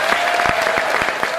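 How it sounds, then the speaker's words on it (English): A studio audience at a radio programme recording claps in a brief, brisk burst, individual hand claps audible within the steady ovation. "Round of applause."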